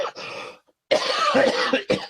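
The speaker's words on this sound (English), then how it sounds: "I have such a bad cough" Several harsh coughs from a person with a bad cough, close and loud, in a short burst, a pause, then a longer fit of repeated coughing.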